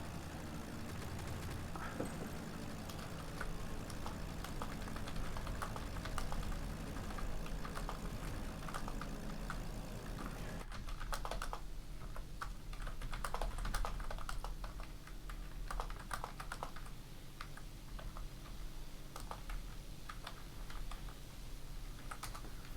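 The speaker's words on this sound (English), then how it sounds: "Nice keyboard sound, Scott." Old Logitech G15 computer keyboard being typed on, rapid uneven clicks and clacks throughout, alongside a low steady hum in the background.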